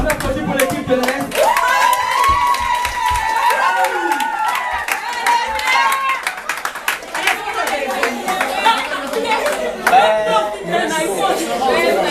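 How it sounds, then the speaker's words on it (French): Audience at a Bible quiz game clapping for the East team, steady hand claps and cheers mixed with crowd chatter throughout. "On applaudit pour l'équipe de l'Est."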